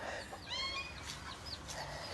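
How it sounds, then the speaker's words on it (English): Chickens clucking and chirping as they are herded outdoors, several short calls and a few higher peeps close by over a faint background. "You guys watch me do some chicken herding."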